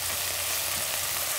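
Collard greens frying in a pan make a steady, close sizzle with bright crackling hiss, continuous and even for the whole moment, with no voices over it.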